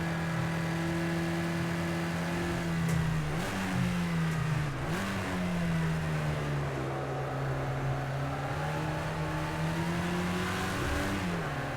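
Porsche 924 engine in the Project CARS 2 racing game on an 80's GT race at Daytona, a steady droning mid-pitched engine held at high revs with brief pitch dips at gear shifts, loud and continuous throughout.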